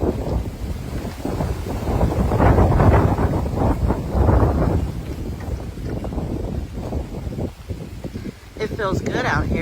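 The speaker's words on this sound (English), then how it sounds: "It's really windy." Strong wind during a warm thunderstorm buffets the microphone with a loud, low, rumbling roar that surges and eases unevenly throughout.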